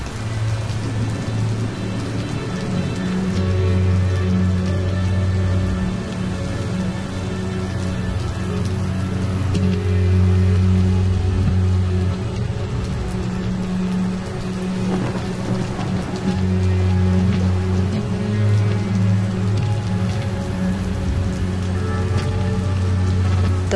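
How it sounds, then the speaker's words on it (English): Steady rain patters on a misty mountain trail on the way to Mardi Himal, a dense continuous hiss close around the listener with low rumbling underneath and no speech throughout. "To be up here in the rain with the mist is really fun."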